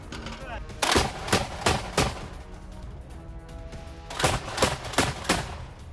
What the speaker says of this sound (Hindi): रूस का आर्टिलरी हमले का वीडियो आया सामने